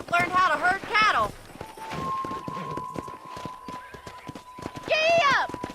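Horse hooves clip-clop in a steady rhythm in the Red Dead Redemption video game, close and clear, with horse whinnies at the start and end and a sustained tone in between.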